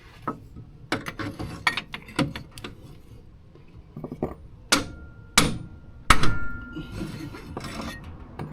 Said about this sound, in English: I just had to hit it that way with the hammer